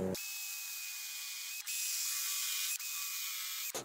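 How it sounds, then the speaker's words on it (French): Power drill pre-drilling a pilot hole in wood while building a shelf, a steady high whine that runs continuously with two brief dips in speed, close and alone with no talk. "je préperce."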